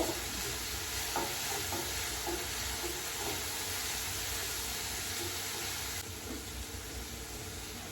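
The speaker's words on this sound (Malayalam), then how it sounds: "ഇനി നമുക്കിതിലേക്ക് ചെറുള്ളി ഇട്ട് കൊടുക്കാം ഇത് നന്നായിട്ടൊന്ന് വഴണ്ട് വന്നിട്ടുണ്ട്" Shallots fry in a pan with ginger garlic paste, giving a continuous close sizzle broken by a few light stirring scrapes, with no voices.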